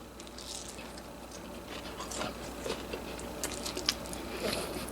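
Crispy air-fried chicken wings are bitten and chewed up close, with a few quiet crunches and soft squishy chewing sounds spread across the moment and no talking.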